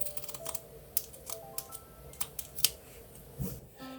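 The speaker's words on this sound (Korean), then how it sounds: "도안의 모양을 따라서 잘라주세요." Scissors cut around a punch needle embroidery pattern, making a series of quiet, close snips and paper rustles at an uneven pace with no talking.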